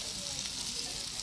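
Batter hits a hot kerahi wok and fries with a steady, close hiss and crackle, sizzling evenly without pause.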